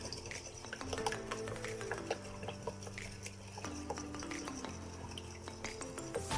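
Milk and vegetable oil being whisked together in a bowl for banana bread batter, a steady run of light clinking and scraping strokes against the bowl, close and moderately loud, with no talking.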